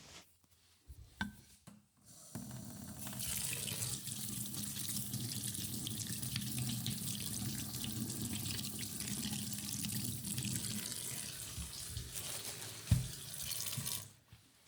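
Kitchen tap water running into a sink while salad ingredients are rinsed by hand, a steady close splashing stream with rubbing and handling sounds, starting after a few seconds and stopping near the end.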